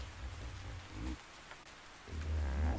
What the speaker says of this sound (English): In fact, it's raining, I think.